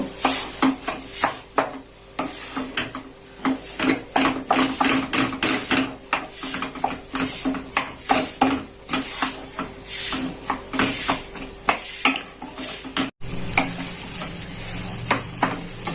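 Beetroot and carrot vegetable mix being stirred in a hot pan, repeated scraping strokes of a spatula with sizzling underneath, close and loud, in a steady irregular rhythm with a brief pause near the end.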